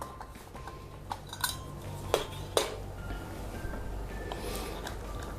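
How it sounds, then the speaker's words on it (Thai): A lid goes onto a sterilized glass jar of three-flavor pickled vegetables, heard as a few light clinks and a couple of sharper metallic-glass clicks over quiet room noise, close and fairly faint, no speech. "หลังจากนั้นเราก็จะปิดฝานะครับ"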